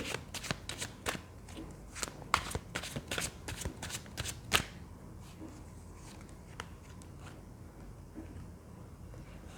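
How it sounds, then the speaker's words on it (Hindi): Tarot cards are shuffled in quick, crisp riffles and flicks for several seconds close to the microphone, then handling quiets to soft occasional taps as cards are drawn. "थोड़ी क्लैरिटी मुझे चाहिए इसलिए मैं और कार्ड्स निकालूंगी।"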